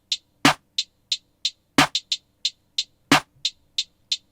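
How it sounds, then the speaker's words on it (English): A programmed drum pattern built in Soundtrap from closed hi-hats and snares: a steady, evenly spaced run of short crisp hat ticks with three heavier snare hits spaced between them, clean and with no other sounds. "Now we'll just have the closed hats and the snares"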